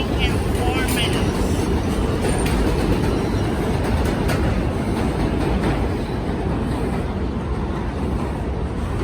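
A subway train roars continuously through 174th Street station on a curve, a loud, dense, steady rumble and rattle of wheels on track filling the whole stretch with no break.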